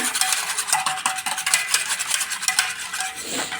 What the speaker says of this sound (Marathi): छान असं मिक्स करून घ्यायचं ताकात बेसन